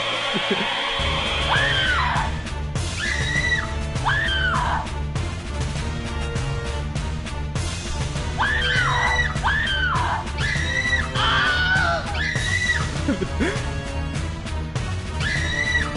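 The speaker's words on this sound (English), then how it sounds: "The screaming is throwing me off." Repeated shrill screams from a Jackbox Party video game, loud cartoonish wails rising and falling every second or two over a steady backing track of game music.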